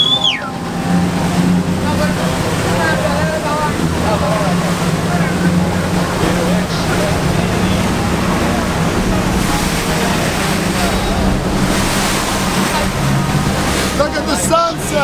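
Motorboats racing across the open sea off Sosua, Dominican Republic, during a deep-sea fishing outing, giving a steady engine drone blended with wave wash and wind buffeting on the microphone throughout.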